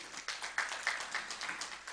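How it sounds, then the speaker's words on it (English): Audience applause for a guest at a business conference and exhibition, a steady patter of many hands clapping at moderate distance, continuing evenly throughout with no talk over it. "A round of applause for him."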